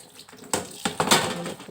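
Water splashing and dishes clattering while tilapia fish are washed at a kitchen sink, a few irregular splashes and knocks, close and moderately loud, with no talk.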